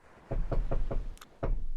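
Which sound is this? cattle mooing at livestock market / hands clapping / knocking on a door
knocking on a door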